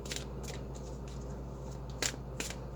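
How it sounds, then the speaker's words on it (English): Tarot cards being shuffled and drawn, with several quick riffling bursts close by in a quiet room, separated by short pauses and ending in a cluster of crisp flicks. "I want some more cards on this."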